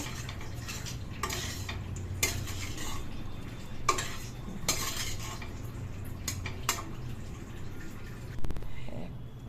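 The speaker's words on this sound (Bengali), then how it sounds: "একটু নেড়ে নেব।" A salad with lemon and salt is stirred in a bowl, giving scattered clinks and light tapping of a utensil against the bowl over a soft, steady background.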